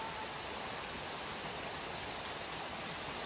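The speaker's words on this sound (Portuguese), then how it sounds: "vou deixar vocês ouvirem o barulho dessa água magnífica." Clear water rushing along a stream in England's Lake District, a dense, unbroken roar that stays loud and steady from start to finish.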